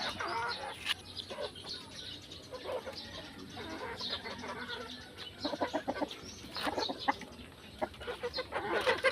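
Bantam gamefowl at feeding time on a game farm, several chickens clucking and chattering near and far, with scattered chirps over a busy outdoor background.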